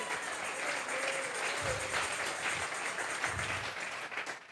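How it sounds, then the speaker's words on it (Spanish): A church congregation claps in a sustained wash of applause offered to God during a Spanish-language sermon, steady and fairly loud throughout. "Vamos a regalarle ofrenda de palmas al Dios de la gloria."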